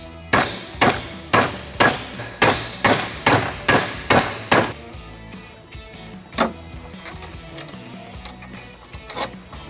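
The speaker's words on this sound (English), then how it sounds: "I'm going to use a hammer to flatten it out." Hammer blows flattening a metal tab on a trailer hitch being fitted to a 2013 Toyota Camry: about nine sharp, evenly spaced strikes, loud and close, then a few scattered lighter taps and clanks.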